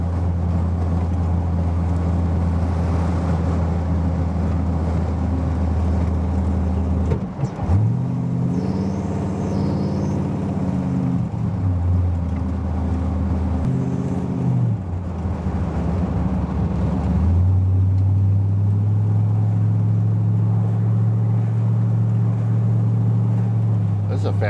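A 1957 Chevrolet Handyman engine drones steadily as the car cruises at low RPM, loud and close from inside, with pitch shifts as it changes gear into overdrive.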